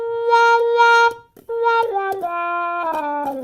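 A trumpet with a plunger mute, the kind without a hole cut out, plays a few sustained notes with a brief gap, then bending, sliding tones, bright and close with no other sounds.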